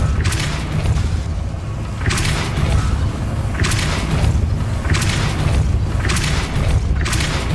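Spell blasts in the Hogwarts Legacy video game give loud, booming explosions about every one and a half seconds, each with a whooshing burst in a steady rhythm and no talk.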